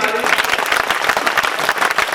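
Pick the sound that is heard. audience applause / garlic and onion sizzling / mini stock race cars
audience applause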